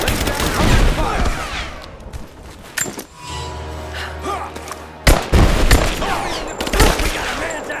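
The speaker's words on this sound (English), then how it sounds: "Lay down covering fire!" Bursts of automatic gunfire from the game Rise of the Tomb Raider, sharp loud rattling volleys that break off into a low rumbling lull before crackling back in, with brief shouted voices.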